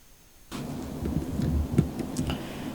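Steady rain falls in the Kashmir valley, a dense broadband hiss that starts abruptly and holds for a couple of seconds, with scattered heavier drops and a low rumbling undertone.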